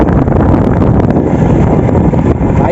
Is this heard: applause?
no